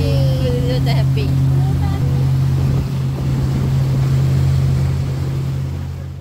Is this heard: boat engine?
yes